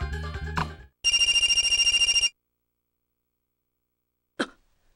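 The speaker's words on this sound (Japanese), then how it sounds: "じいさんの携帯に着信だ。" An incoming-call ringtone on an old man's mobile phone in the Detective Conan video game trills loudly for about a second after a short musical phrase, then falls silent before a brief sharp blip.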